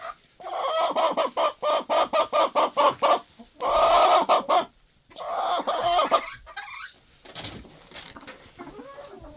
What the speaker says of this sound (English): Here's an example of what it sounds like in the coop when you try to sleep in for 30 minutes.